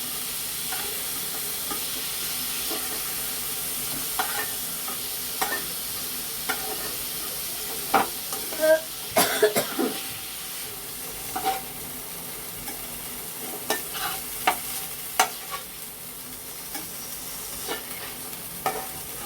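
Chicken pieces stirred and slowly lifted out of hot frying oil in a home kitchen, a steady soft sizzle with scattered clinks and scrapes of a utensil against the pan throughout.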